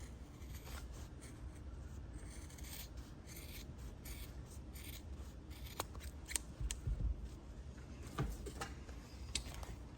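Scissors trimming a paper banner, with quiet continuous snipping and rubbing of paper and a few sharper cuts, close but faint.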